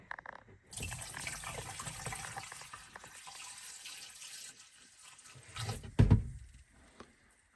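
About a quart of liquid poured down a sink drain into a garbage disposal, a steady soft gurgling pour, swelling into a louder splashing glug near the end before trailing off.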